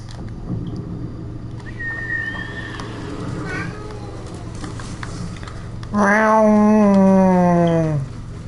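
Joey, a pet cat, lets out one loud drawn-out meow close by, preceded by quieter faint sounds and low room noise.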